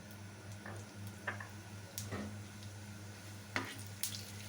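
Whole cumin seeds crackle and sizzle faintly in hot mustard oil in a pan, with scattered small pops over a steady low hum while the base for an Assamese baingan bharta begins.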